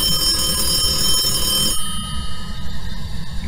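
A telephone in a haunted high school in the Phasmophobia ghost-hunting game rings with a steady electronic trill over low room hum, then falls quieter partway through.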